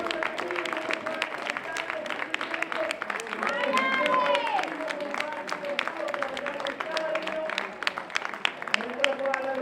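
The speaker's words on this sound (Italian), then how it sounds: "Intanto applausi per Nadia Vadocchetti" Applause and cheering from a crowd greet a runner crossing the finish line at a regional track race, sustained clapping throughout, with a commentator talking over it.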